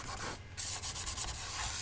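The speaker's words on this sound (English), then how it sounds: "I think I've sanded it enough down to get rid of that" Sandpaper rubs across a plastic model kit part of a Revell 1/600 scale Enterprise, with brief quick scratchy strokes close up, no voices.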